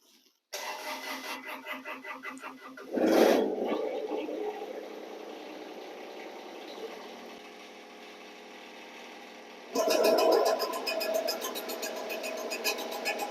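A Kubota BX1870 tractor with a snowblower attachment fires up, a loud burst at start-up settling into a steady running engine drone, then surging louder again near the end as it revs.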